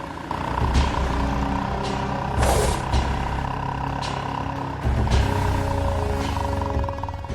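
A vehicle's engine rumbles steadily as it pulls away during a hurried getaway, a constant low drone with a brief hissing burst partway through and a slight swell near the end.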